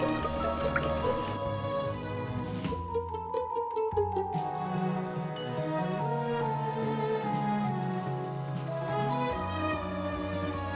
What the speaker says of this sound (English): I gotta give it a little stir